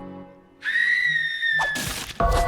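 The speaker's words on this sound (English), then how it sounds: "let's start with screaming, of course" A high, sustained scream from the video game My Lovely Daughter, rising sharply and holding for about a second before giving way to harsh, noisy bursts.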